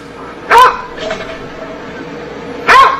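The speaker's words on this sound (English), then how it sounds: "a dog barking" A dog on a porch barks twice, two loud, sharp, separate barks about two seconds apart, with faint background sound between them.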